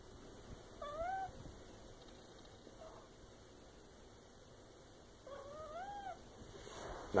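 A domestic cat meows in two close, rising calls near the start and another pair a few seconds later, each clear and alone over a quiet indoor background, with a brief rustle at the end.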